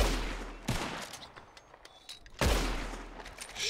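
Two booming gunshots aimed at birds in the Red Dead Redemption 2 video game, about 1.7 seconds apart, each a sharp blast with a rumbling tail over faint background ambience.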